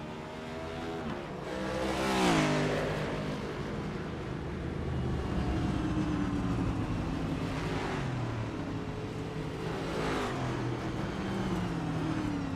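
Race cars coming down pit road in an iRacing sim race, several engines droning and rising in pitch as they pass, moderately loud with a continuous background roar.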